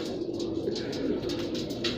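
Pet pigeons coo in soft, repeated throaty pulses close by, a steady low burble with faint chirps mixed in and no voices.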